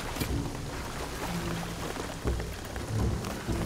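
Steady game rain in a Shadow of the Tomb Raider storm, a dense hiss of drops on surfaces with low rumbling thunder-like swells underneath, constant and fairly close throughout.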